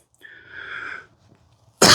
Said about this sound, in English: I got a bit of a cough here.